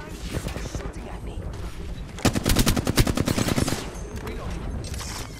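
Rapid automatic gunfire from an Apex Legends match, a dense burst of shots in the middle, with sporadic fainter shots and game noise around it.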